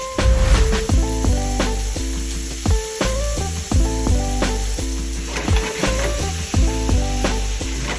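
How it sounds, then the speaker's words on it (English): Shrimp seasoned with Old Bay fry in a pan with a steady, close hiss of sizzling and occasional stirring, running beneath prominent background music with no one talking. "I'm gonna take the shrimp and I'm gonna cook them. I'm gonna add a little Old Bay seasoning to them."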